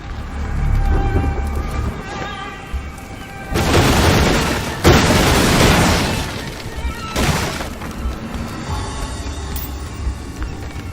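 In the video game Graven, destructible objects burst apart in a chain reaction set off by the Inflame spell: loud successive crashes, shattering and rumbling booms over a steady low background, with no speech.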